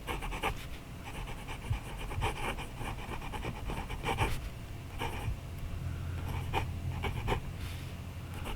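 A Wingsung 699 fountain pen writes on paper, making soft, quiet scratchy strokes in irregular short bursts with brief pauses between them, heard close up and alone.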